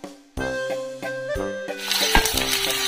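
Onions, dried chili and bay leaf sizzle in hot mustard oil, a close, steady frying hiss that swells as ingredients hit the pan, with utensil stirring and clinks over it.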